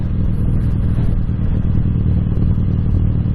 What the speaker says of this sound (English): But I also want to see what the engine noise is like